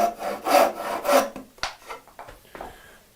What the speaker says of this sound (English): And now I'm only cutting on the lines that I can see.